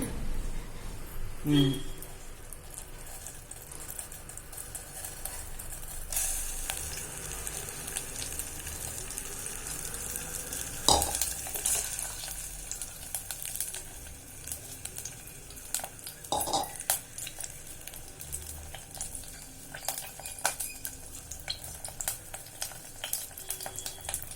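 A Kerala-style banana payasam mixture, with melted ghee and cashews, is stirred steadily in a pan, giving soft scraping and a low sizzle with occasional spoon knocks, under intermittent background voice.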